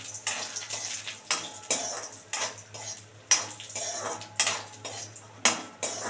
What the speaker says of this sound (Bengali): মটর ডালের বড়িটা আমি এবার ভালো করে সুন্দর করে ভেজে নেব, ভেজে তুলে নেবো এটা।